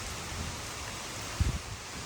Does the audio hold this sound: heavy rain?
yes